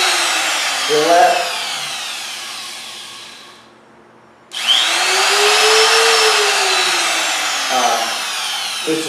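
A Bosch Colt 1HP palm router whines at high speed, cuts out briefly to near silence, then spins back up and keeps running steadily and close, with a faint voice at moments.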